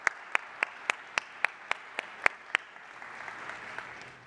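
A short burst of audience clapping at a medical conference in Quebec, heard as about ten distinct, evenly spaced claps that trail off into a softer, scattered patter.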